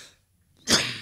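A single sharp cough bursts out after a brief near-silence, close and fairly loud, with no speech.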